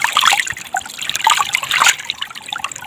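Water from a small waterfall trickles and splashes out between stones close by, a steady bubbling flow with brighter spurts, heard alone without speech.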